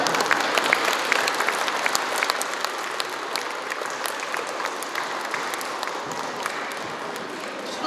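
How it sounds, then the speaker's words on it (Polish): Crowd at a school ceremony in Poland clapping, a sustained rattle of many hands from a large audience, loud at first and gradually easing off. "Ogromne brawa."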